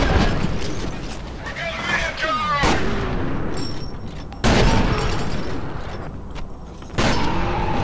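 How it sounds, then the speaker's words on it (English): Gunfire in the shooter video game F.E.A.R., with several sharp broadband bursts and impacts scattered through a busy, loud game soundscape; two heavy blasts stand out near the middle and end. "because you just heard friggin' gunshots"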